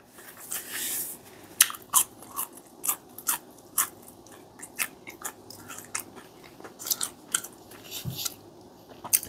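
Chewing of breaded, fried mini meatballs filled with cheese, served at a fast-food restaurant: close, crunchy bites and steady wet mastication with irregular clicks, heard alone without talk.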